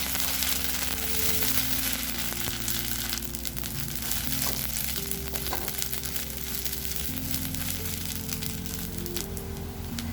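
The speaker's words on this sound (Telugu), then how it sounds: "ఇవి బాగా పచ్చిమణం పోయేంత వరకు, పచ్చి వాసన పోయేంత వరకు ఫ్రై చేయాలండి" Ginger garlic paste fries with onions in a pan, giving a steady, dense sizzle that runs the whole time beneath sustained tonal background sounds.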